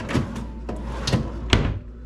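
Wooden drawers in a Disney resort hotel room sliding open and shut, several close knocks and scrapes in quick succession over quiet room tone.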